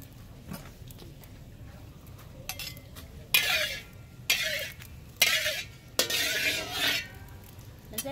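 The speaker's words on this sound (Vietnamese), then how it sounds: "Giờ mình sẽ chiên sơ qua con cá ha." Fish being fried in a pan for a Vietnamese fish and ant-egg hotpot, with bursts of sizzling spitting oil and clinks of utensils against the pan, close and moderately loud, with no talk.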